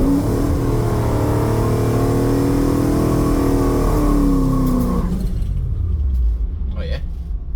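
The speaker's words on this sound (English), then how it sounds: "we'll go for the third gear burnout again" A drag car doing a third gear burnout at test and tune runs on small tyres roars loud and close. The engine revs hard with a deep rumbling, then cuts off and fades near the end.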